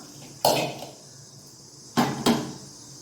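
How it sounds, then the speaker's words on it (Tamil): Three sharp clattering knocks as a pot is set on a stove, one alone then two close together a moment later, near and distinct against a quiet room. "ஸ்டவ் ஆன் பண்ணி பாத்திரம் வச்சுக்கலாம்"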